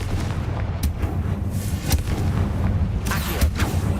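Confringo blasting spell explosions in Hogwarts Legacy, a string of sharp booms and crackling blasts over a rumbling low bed, several hits spaced irregularly across a few seconds, fairly loud and close.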